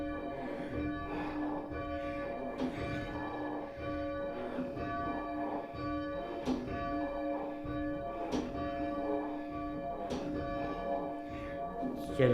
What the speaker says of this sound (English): Now the bell is actually losing its momentum.